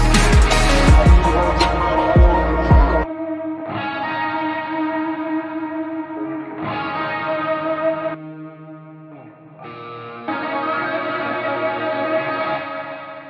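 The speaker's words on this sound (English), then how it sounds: "the last guitars we kind of need to talk about are these little drone guitars" A sustained, droning electric guitar washes out in heavy reverb and echoing delay, its swelling tones shifting in blocks after a brief louder, busier opening.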